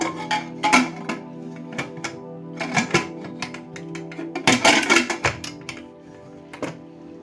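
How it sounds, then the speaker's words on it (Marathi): A pressure cooker holding chickpeas and half a litre of water has its metal lid fitted and closed, giving a run of close clanks, scrapes and thunks with several louder knocks partway through and no talk. "आता हा कुकर आपण बंद करून घेऊया"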